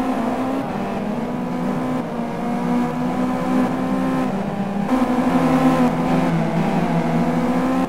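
Several race car engines drone and whine together in the Simraceway racing game at Sonoma, a loud, steady multi-car roar with pitch shifting as the field runs close, with no commentary over it.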